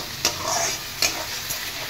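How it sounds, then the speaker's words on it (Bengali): Spice paste frying and being stirred in a wok for a Bengali rohu fish curry, with a steady hiss and three sharp scraping strokes from a spatula against the pan, close and alone. "মশলাটা পুরো ভাজা হয়ে গেছে, কড়া থেকে কেমন ছেড়ে যাচ্ছে মশলাটা"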